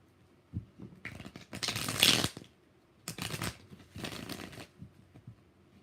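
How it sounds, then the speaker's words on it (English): Tarot cards being shuffled in quick papery bursts, three main riffles separated by short pauses, close and fairly quiet with no talk. "2 more shuffles"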